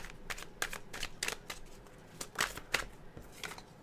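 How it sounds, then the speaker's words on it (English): Tarot cards are shuffled close up in a quiet room, giving a series of soft, crisp riffling bursts and slaps in an irregular rhythm, with short pauses between them. "let's shuffle."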